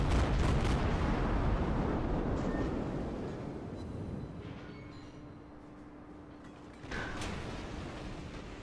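Naval guns boom from a cruiser in World of Warships, one broad roaring blast fading into rumble, then a second sharp report near the end, with no talk over it.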